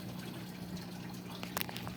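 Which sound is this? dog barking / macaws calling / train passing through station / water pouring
water pouring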